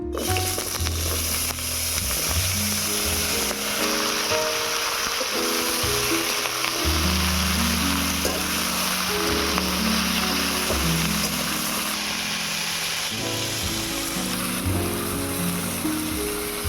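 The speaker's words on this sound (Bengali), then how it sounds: "এবারে ভেজে নেব পটল।" Pointed gourd (potol) pieces fry in hot oil in a pan, giving a dense, continuous sizzle with occasional stirring, close and fairly loud, no talking.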